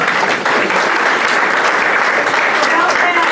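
An audience at a mental health talk breaks into sustained, close, dense applause that continues evenly throughout, with voices faintly mixed in beneath the clapping.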